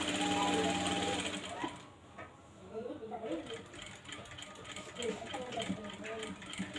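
Sewing machine stitching elastic into the hem of a churidar top, a steady mechanical whir that pauses briefly and then resumes in rapid bursts, close and fairly loud, with a voice talking over part of it.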